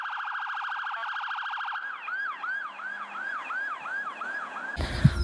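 A toy police car's electronic siren, first a fast warbling wail, then a repeating swooping whoop, fairly loud and close, with no talk.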